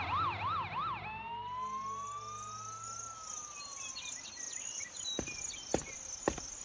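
Fire truck and police car sirens approach, a rapid warbling wail sliding into a long rising and falling tone, heard at a distance over a steady chorus of crickets, with a couple of sharp clicks near the end.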